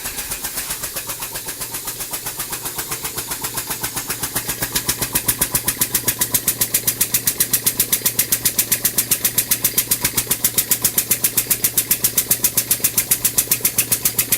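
A homemade compressed-air engine runs steadily with a rapid, even train of loud exhaust pulses, picking up slightly in strength partway through, with a low hum beneath and no talking.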